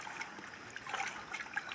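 Soil and stones being washed in water, a faint, continuous trickle and swish of water sloshing close by, with no voices.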